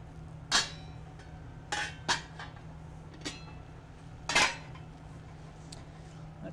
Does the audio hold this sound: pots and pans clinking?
yes